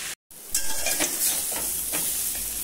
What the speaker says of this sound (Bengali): এবারে নাড়াচাড়া করে আমি এটাকে কড়া ভাজা করে নেব